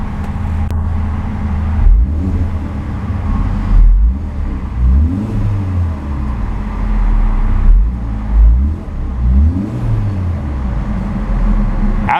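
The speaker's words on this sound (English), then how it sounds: "let's see about a few revs of that upgraded turbo inline 4 and see what kind of soundtrack she produces" Upgraded turbocharged inline-four in a 2014 Hyundai Veloster Turbo with large dual-outlet exhaust, revved in three sharp blips that rise and fall over a steady, loud idle, recorded close with no talking.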